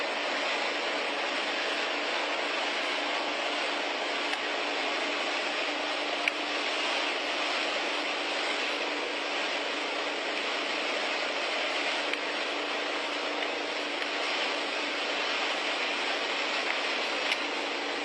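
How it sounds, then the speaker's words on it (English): An airplane drones steadily overhead for the whole stretch, a constant broad engine roar with no talk over it. "Maybe that's a new plane."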